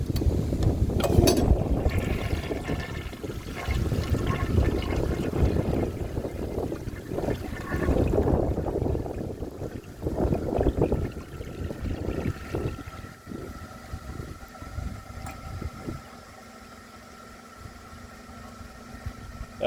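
A 1948 Crane Drexel toilet flushes with a dish towel in the bowl, giving a loud rushing, gurgling wash of water that churns for several seconds and then drains off into a quieter, steady trickle.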